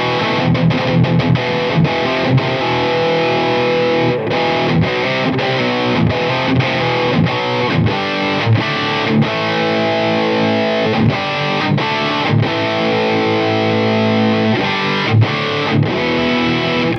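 Heavily distorted high-gain metal guitar riffing from an Epiphone Dave Mustaine Prophecy Flying V with Fishman Fluence pickups, chugging palm-muted rhythms and sustained chords with abrupt stops, loud and continuous with no talking.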